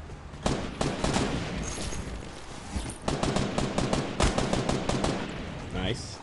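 Rapid bursts of gunfire in the battle royale game Fortnite, dense strings of sharp shots in quick succession broken by brief pauses, fairly loud and continuous, with some faint voices.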